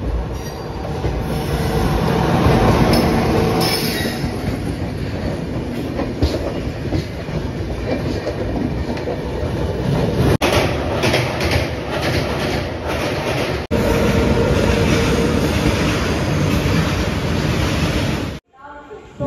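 The Tirupathi Express runs on the rails between Tirupathi and Kakinada Port, heard from on board as a loud, continuous roar with rhythmic wheel clatter and some squeal for most of the clip. It cuts off abruptly near the end.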